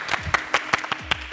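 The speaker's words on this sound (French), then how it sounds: "on applaudit à chaque fois qu'on dit Wix" Hands clap during a French dance tutorial: about six sharp, distinct claps in an irregular rhythm, close and moderately loud, with quiet gaps between them.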